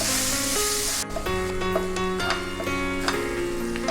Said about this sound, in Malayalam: ഇത് നന്നായിട്ട് എണ്ണയിൽ തീ കുറച്ച് വെച്ചിട്ട് എണ്ണയിൽ നിന്ന് മൂപ്പിച്ചെടുക്കുക